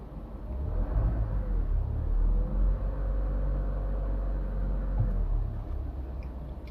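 A Renault Trafic SL30 van's engine idles close by, then is given a short rev that rises, holds as a steady drone for a few seconds and settles back to a low rumble.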